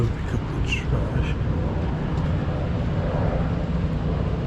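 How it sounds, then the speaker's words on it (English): Airplane overhead above a snowy Queens neighbourhood, a steady broadband roar that holds for the whole stretch, loud and constant, with people talking faintly beneath it. "I hear a plane, but I can't see."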